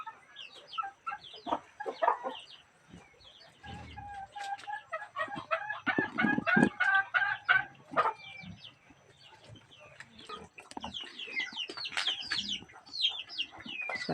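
Chickens cluck repeatedly and a rooster crows in a rural yard, the calls fairly close and intermittent, with scattered bird sounds in between and no talk.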